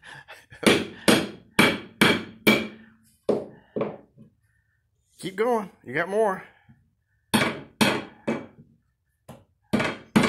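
Close, sharp hammer blows land in quick bursts of several strikes with short pauses between, while an adult voice speaks encouragement in the gaps.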